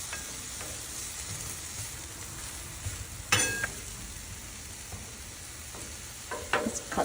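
Portobello mushrooms fry on a Blackstone flat-top griddle, giving a continuous low sizzle with a few sharp metallic spatula scrapes and taps, and no one speaking.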